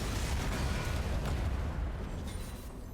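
Bombing explosions in a video game cutscene set in a riot-torn London: a dense, continuous rumbling roar of blasts, loud and close throughout, with no talk.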